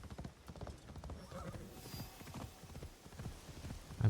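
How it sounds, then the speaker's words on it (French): Horse hooves clip-clop steadily at a gallop in the video game Assassin's Creed Shadows, a continuous rapid rhythm close by, with a brief whinny and faint ambient game sound beneath. "Je suis en cheval, je galope."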